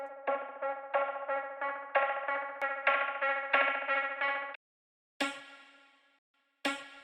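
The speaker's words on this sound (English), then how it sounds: "It's at 126 and this one is at 90, so that's why it sounds kind of stretched" A music loop time-stretched from 90 to 126 BPM, with a choppy run of rhythmic, effected notes for several seconds, then silence broken by two sharp stabs that decay away.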